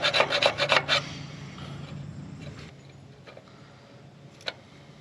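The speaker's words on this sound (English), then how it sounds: "I ended up grabbing a file, filing the flats back in so I could get a adjustable wrench on it." A hand file rasps against a rounded spark plug on a 1943 Case SC tractor, about six quick, harsh strokes close up, followed by quieter scraping and a single sharp clink.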